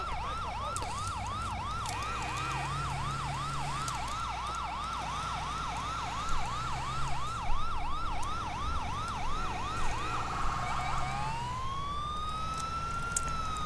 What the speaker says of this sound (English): Not really, we can turn off our sirens.